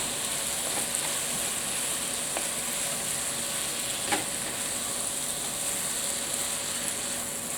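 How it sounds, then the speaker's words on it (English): Chicken curry being stirred in a pan during a school cooking lesson, a steady broadband sizzle throughout with faint scraping clicks of the spoon against the pan and no talking. "giving that a nice stir"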